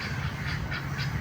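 Ducks quack in short repeated calls, about three in quick succession, at Worli in Mumbai, set against a steady low hum of background noise.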